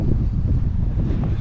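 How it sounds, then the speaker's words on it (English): Steady wind gusting across the microphone on a grey forest walk at Affpuddle, a low continuous rumble with no breaks, fairly loud and close. "it's a bit of a windy day, it's a bit grey and miserable"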